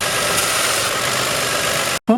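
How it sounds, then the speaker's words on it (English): A used car's engine is running during a mechanical inspection, giving a loud, steady droning rumble close by that cuts off abruptly near the end. "Rev the engine and see how it sounds."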